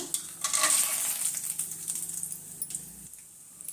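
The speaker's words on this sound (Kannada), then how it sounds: "ಒಂದು ಬಾಣಲಿಗೆ ಎಣ್ಣೆ ಹಾಕ್ಕೊತಾ ಇದ್ದೀನಿ ಸಾಸಿವೆ ಹಾಕ್ತಾಯಿದ್ದೀನಿ ಕಡಲೆಕಾಯಿ ಬೀಜ" Mustard seeds and peanuts fry in oil in a pan, giving a crackling sizzle with a sharp burst at first, then lighter popping and stirring rattles that fade toward the end.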